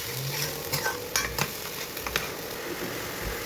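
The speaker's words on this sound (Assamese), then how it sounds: "এইখিনি অকণমান লৰাই লৰাই ভাজি" A paste of onion, ginger and tomato fries in butter with bay leaves in a kadhai while being stirred, making a close sizzle broken by a few scraping strokes of the spoon against the pan, with no talking.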